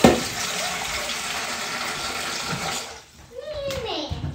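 Tap water runs steadily into a pot being filled for boiling, a broad hiss for about three seconds before it stops, followed by a few clinks and brief kitchen sounds.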